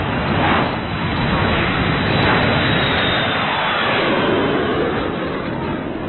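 An airplane drops in a falling-leaf descent, its engine roaring loud, broad and continuous with a steady wind-rushing wash and no break.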